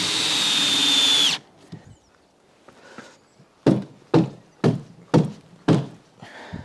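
A power drill driving screws into the OSB base of a workshop, a loud whir first, then a run of six sharp, evenly spaced thunks as the screws seat.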